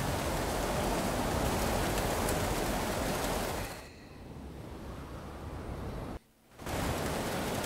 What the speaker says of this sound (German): Ein bisschen Regen schadet nie.